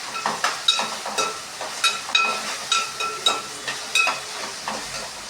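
Okra (bhindi) frying in a pan, a steady sizzle with a run of soft, rhythmic stirring scrapes about every half second, close and fairly loud, with no talking.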